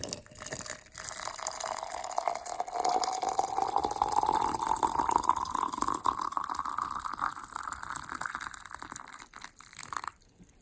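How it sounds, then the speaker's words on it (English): A steady watery rumble and hiss, with a faint tone slowly rising in pitch as the water heats, continuous and close. "The water is just boiling."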